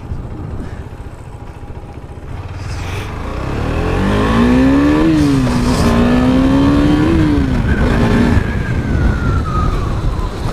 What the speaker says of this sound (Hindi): ये बाइक बहुत ज़्यादा कुछ पावरफुल मशीन है, बहुत ज़्यादा खींचती है भाई ये